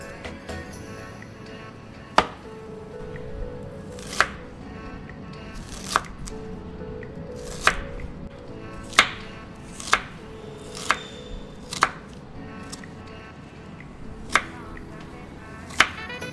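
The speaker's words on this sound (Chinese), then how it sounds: "番茄切块" A knife chops tomatoes into chunks on a cutting board, each sharp chop standing alone at an uneven, unhurried rhythm, clear and close, with no talking.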